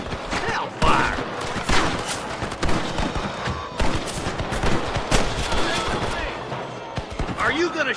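Gunfire in a Red Dead Redemption shootout with rustlers, irregular volleys of close, loud shots and thumping impacts, with scattered game voices mixed in.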